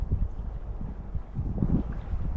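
Wind gusting beside a small river during chub fishing, a steady low rumbling buffet of air that swells and fades, with a stronger gust late on and no talk.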